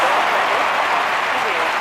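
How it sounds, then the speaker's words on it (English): Stadium crowd applauding in the London 2012 video game, a dense, steady roar of clapping with a commentator talking over it. "quite rightly the fans know to applaud"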